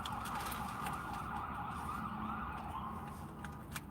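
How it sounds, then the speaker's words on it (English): A wailing emergency siren holds steady in the distance over constant low road rumble, sounding continuously with no voices. "Always got the damn sirens."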